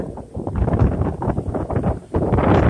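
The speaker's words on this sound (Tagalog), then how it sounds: "Lakas ng hangin" Strong coastal gusts buffet the microphone near a beach with loud, low rumbling roar that surges and dips, briefly easing near the end before blasting back.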